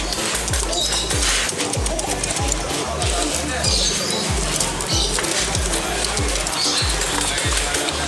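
Homing pigeons coo in a steady, repeated rhythm at a busy pigeon bird market in Sampang, with dense crowd noise and voices around them.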